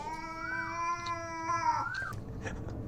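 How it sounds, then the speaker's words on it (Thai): Cats fighting give a drawn-out, wavering yowl that rises and falls in pitch, fairly close and loud, over a low background hum, with no voices. "แมวตีกัน"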